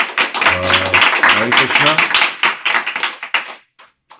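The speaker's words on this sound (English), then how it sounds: "let's give a big round of applause to Matthew" An audience at a Hare Krishna kirtan gathering claps in a dense, steady round of applause for about three and a half seconds, with a chanting voice ringing through it before it quickly dies away.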